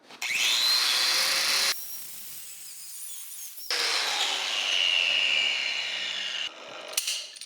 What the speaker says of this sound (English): Little thin cutoff wheel for metal